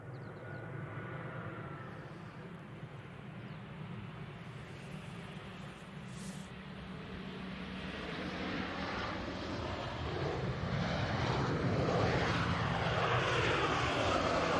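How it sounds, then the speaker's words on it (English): An EasyJet airliner lands at Manchester Airport, a broad rushing jet roar that stays steady and swells louder toward the end as the plane rolls closer. "beautiful landing there from the EasyJet"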